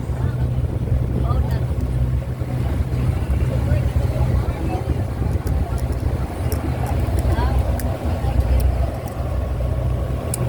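Boat engine running at Boracay, a loud, steady low rumble that carries on throughout, with people chatting and calling out over it.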